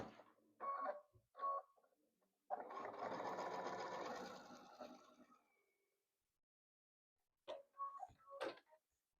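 A sewing machine stitches a foundation paper pieced quilt block, running in one close burst of a few seconds of whirring needle chatter, framed by brief clicks and handling noises before and after.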